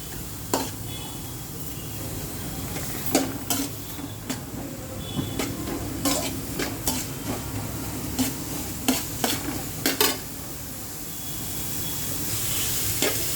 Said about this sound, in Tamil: வெங்காயம் போட்டு நல்லா வதக்குறோம்.